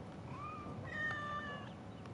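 A cat in Assassin's Creed Origins gives two short meows, the second longer and rising, over a steady background hiss, with no talk.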